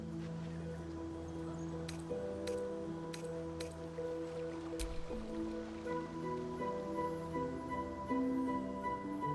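Character wading into coastal water in Baldur's Gate 3, with soft splashes and squishy drips over a sustained musical score, faint and close.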